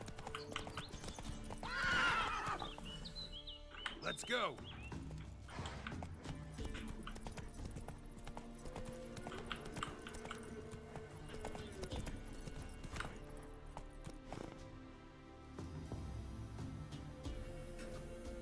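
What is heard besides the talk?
horse galloping, from video game The Witcher 3: Wild Hunt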